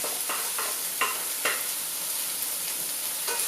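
Ginger sautéing in a pan before Brussels sprouts go in, a steady close sizzle punctuated by several short scraping stir strokes, no talking.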